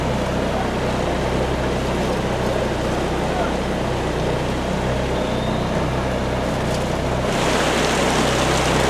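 Floodwater runs along a city street after heavy rain in the sierra, a loud steady rushing wash that holds constant throughout and swells slightly near the end, with no clear speech.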